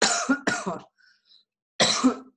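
A woman with a cold coughs and clears her throat in a few close, loud bursts: two quick rough coughs together, a pause with faint small noises, then one more harsh throat-clearing cough.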